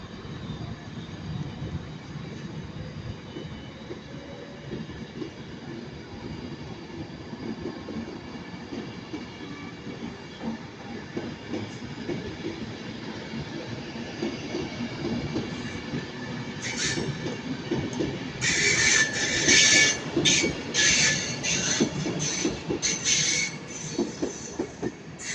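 An Avanti West Coast Class 390 electric train pulls out of Stockport station bound for London Euston, a steady low rumble of wheels and traction building through the clip, with brief high squeals and clatter toward the end, heard from the platform.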